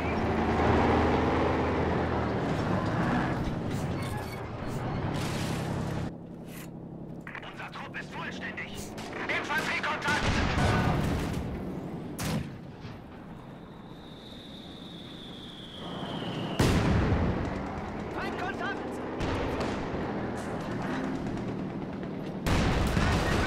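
Anti-tank gun shots and gunfire in a World War II style strategy game, several sharp bursts scattered among background battle noise, with a voice talking over much of it.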